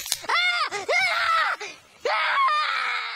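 A man screams in pain after his foot is caught in a trap in a film. The screams are loud and sustained, with wavering pitch, and there is a short dip before a final drawn-out cry.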